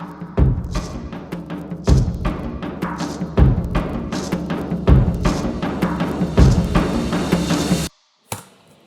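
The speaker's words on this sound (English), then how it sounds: "And then you have these rim hits and these drum rolls going," Percussive rim hits and drum rolls building inside a riser, with regular sharp hits about every 1.5 seconds over a dense sustained roll that swells, then cuts to silence with one last short hit near the end.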